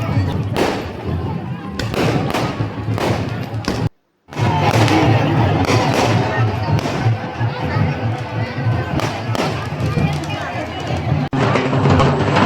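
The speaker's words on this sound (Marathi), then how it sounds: "आणि तुम्ही बघू शकता आकाशामध्ये पण असे फटाके फुटायला लागले होते." Fireworks burst over a village Akshaya Tritiya festival, a string of sharp booms and cracks with crowd noise and voices running beneath throughout.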